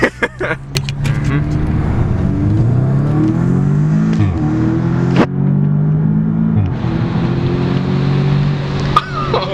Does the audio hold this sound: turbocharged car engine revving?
yes